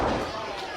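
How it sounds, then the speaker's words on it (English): A wrestler is slammed down onto the ring during a Beyond Wrestling main-event match, giving a short heavy thud at the very start while commentary continues over it. "Slams him down."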